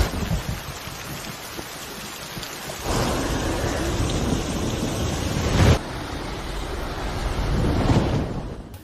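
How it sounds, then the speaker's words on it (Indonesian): A violent storm at sea: heavy rain pours steadily while deep thunder rumbles and surges, with loud swelling bursts midway and again near the end, all without any voices. "harus terbang ambing sendirian di tengah badai yang dahsyat ini"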